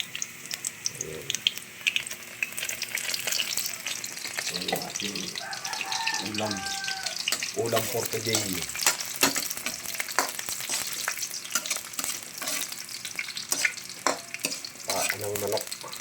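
Ginger sizzling as it sautés in a frying pan, with steady crackle and intermittent scraping stirs, while a person talks over the cooking.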